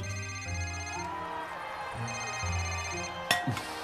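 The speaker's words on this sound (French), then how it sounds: "Laissez ce téléphone tranquille. Laissez sonner." A telephone rings in a film scene, its tonal ring sounding in bursts over a steady background, followed by a brief sharp clink near the end.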